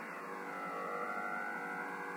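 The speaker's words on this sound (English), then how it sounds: "there's a really nasty noise here" Harsh, steady interference noise on the 80 m HF amateur band from an ICOM IC-7700 transceiver, a continuous buzzing hiss holding level throughout, fairly faint and alone.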